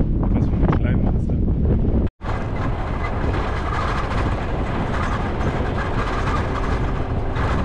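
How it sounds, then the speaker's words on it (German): Strong wind in the Australian outback desert near Coober Pedy, a continuous broadband roar buffeting the microphone with a short cutout early on, while people speak German over it. "Natürlich schade, dass es so windig ist, ne?"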